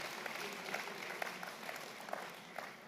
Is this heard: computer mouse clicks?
no